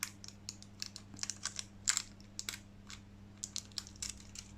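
A nail design sticker is peeled away from its plastic holder in a run of faint, crisp little clicks and crackles, close by and quiet.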